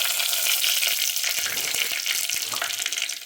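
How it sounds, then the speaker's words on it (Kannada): Cumin seeds sizzle and crackle steadily in hot ghee, a bright continuous frying hiss close to the pan with a few soft stirring knocks. "ತುಪ್ಪ ಬಿಸಿ ಆಯ್ತು. ಸ್ವಲ್ಪ ಜೀರಿಗೆ ಹಾಕೋ"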